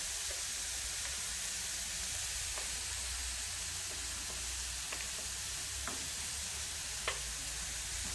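Bell pepper and garlic frying in a pan for jambalaya give a steady, even sizzle throughout, with a few faint clicks from stirring.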